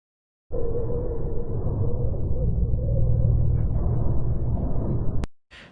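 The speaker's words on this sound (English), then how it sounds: "The sound of Mars." Space recording presented as the sound of Mars: a steady, loud, low rumbling drone with a hollow windy texture, starting abruptly and holding evenly before cutting off near the end.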